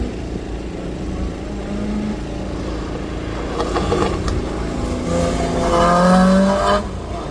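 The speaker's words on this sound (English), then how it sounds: "Lining up is David Hawthorne, Suzuki Hayabusa engine in a Westfield chassis" Hillclimb race car, a Westfield chassis with a Suzuki Hayabusa motorcycle engine, at Craigantlet hillclimb: the engine revs and climbs through high-pitched gears as it draws closer, growing louder toward the end over steady outdoor background noise.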